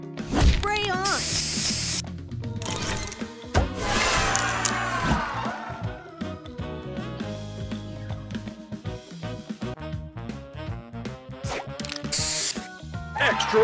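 A spray booster effect from the Color Crystals game, heard as hissing spray bursts and ratcheting mechanical clicks mixed with bright chimes and game music.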